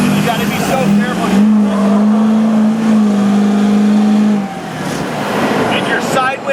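Predator's AT-RV all-terrain reconnaissance truck engine drones and revs loudly and steadily, holding a sustained pitch before easing off near the end, with someone talking over it.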